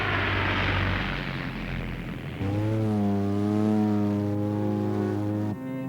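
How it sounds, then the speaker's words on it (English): Propeller airplane engine revving and roaring on a runway cleared on an Antarctic glacier, a loud, steady drone that rises in pitch as the aircraft takes off, with no talking. "The flights take off from a runway cleared from the glacier"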